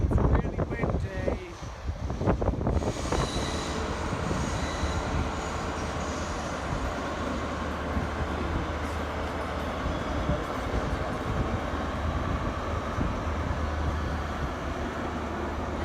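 An HST train heading to London passes nearby, a steady rolling rumble of railcars with some wheel noise that holds evenly through the whole stretch after a brief gusty start.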